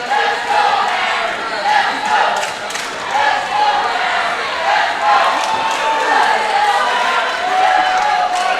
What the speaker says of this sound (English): And now the Danish crowd's starting to get into it.